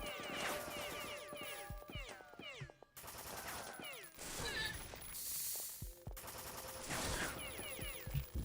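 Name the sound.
chain gun firing in video game The Citadel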